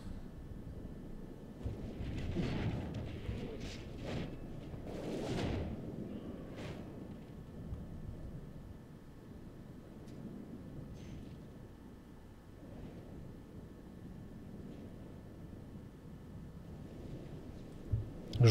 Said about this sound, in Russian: Жду последних выстрелов